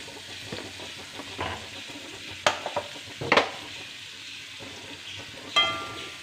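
Bitter gourd stir-fries in coconut oil with a quiet sizzle, broken by several scraping stirs and knocks of a spatula against the pan.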